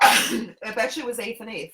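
A single sharp sneeze bursts out close by, followed right after by people talking.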